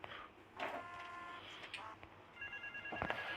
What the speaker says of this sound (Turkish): Bu telefon burada kaç saat çalıyor acaba?